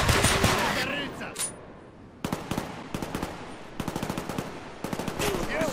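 Call of Duty Black Ops gameplay with loud automatic gunfire in rapid, rhythmic bursts of sharp shots, separated by brief pauses, with voices talking in the opening second.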